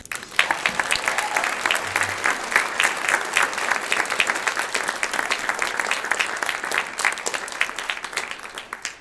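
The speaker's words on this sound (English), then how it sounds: "So she deserves a round of applause." Audience applause fills a room at the Phoenix Conservatory of Music's Jam & Jazz Breakfast, a burst of many hands clapping that swells quickly, stays lively and dense, then gradually thins toward the end.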